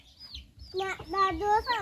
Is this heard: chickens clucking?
yes